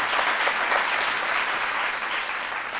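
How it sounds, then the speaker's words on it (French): A French TV studio audience bursts into steady, dense applause, loud and continuous for a few seconds with no voices over it. "On s'applaudit."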